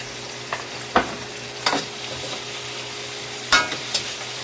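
Shrimp fry in a pan with carrots and noodles, a steady soft sizzle under a few sharp clacks and scrapes as the food is stirred at irregular intervals, close by.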